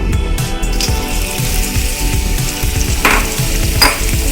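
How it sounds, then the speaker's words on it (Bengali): Pumpkin pieces hit hot oil and fry in a pan, giving a loud, close, continuous sizzle with scraping stirring sounds and a few sharper splashes near the end. "তেল গরম হয়ে গেছে কুমড়োগুলো এবার ঢেলে দেবো"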